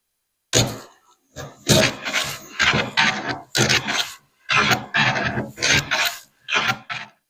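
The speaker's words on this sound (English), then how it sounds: "I'm dialing in my big hand plane" Repeated rasping strokes of a large hand plane shaving wood, about ten even passes in a steady rhythm, close and loud with short pauses between.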